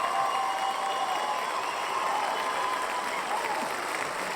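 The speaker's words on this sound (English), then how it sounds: "The applause." Steady applause from a crowd, even and continuous throughout, heard at a moderate distance and fairly quiet overall.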